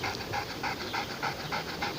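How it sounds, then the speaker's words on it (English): Dog panting close by in a quiet room, rapid rhythmic breaths at about four per second, soft but clear and steady, with no talking. "Here's some panting in the background."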